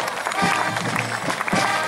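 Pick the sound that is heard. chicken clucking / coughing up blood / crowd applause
crowd applause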